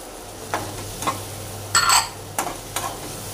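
Chili powder and turmeric being stirred in a pan while butter paneer is cooked, heard as a few separate scraping strokes over a faint, steady background sizzle with no voices.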